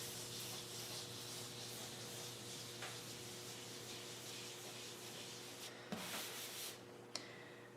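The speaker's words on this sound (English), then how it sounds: "I wipe back and forth across the entire plate." Tarlatan cloth wiped back and forth across an inked photogravure plate gives a steady, soft, continuous rubbing hiss with a low hum beneath it and a couple of brief louder scrapes toward the end.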